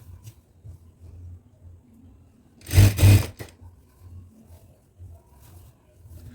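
A sewing machine runs a single quick burst of stitching on a churidar pant, loud and close for about half a second amid an otherwise quiet room.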